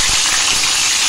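Curry leaves crackle in two ladlefuls of hot oil in a kadhai on a gas flame, tempered with mustard seeds and cumin for leftover-chapati chivda; a steady, bright, close sizzling hiss holds throughout.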